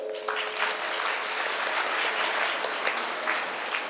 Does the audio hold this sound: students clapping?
yes